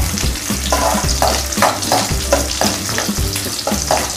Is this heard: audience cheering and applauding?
no